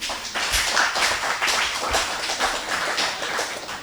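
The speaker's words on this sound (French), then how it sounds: "Je vous demande d'applaudir cette équipe" An audience applauds a high school quiz team at a school competition, a lively, continuous patter of many hands with crisp individual claps, steady and fairly close throughout.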